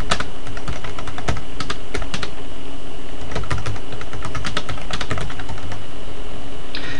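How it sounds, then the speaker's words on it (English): Steady, close clatter of keys on a computer keyboard as a new discussion-board thread is typed, with irregular bursts of keystrokes and no talking. "be able to type in a new thread."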